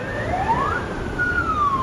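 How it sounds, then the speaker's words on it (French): Ambulance sirens rush through the aftermath of a pager explosion attack in Lebanon, a rising and falling wail sweeping up and down at moderate distance over a low traffic rumble, with no talking. "Et rapidement, le balai des ambulances commence."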